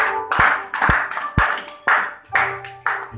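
A church congregation clapping in praise of God, a loose group of claps in a steady, slightly uneven rhythm of about two per second, close and loud.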